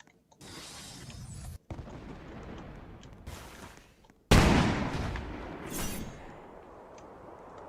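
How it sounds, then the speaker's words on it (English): Explosions in the video game Spellborne go off in a loud burst of noisy blasts, with a sharp, heavy boom near the end that rumbles and slowly fades. "Explosion."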